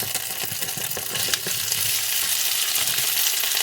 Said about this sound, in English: I'm just going to put that right in the skillet, and watch out for the grease.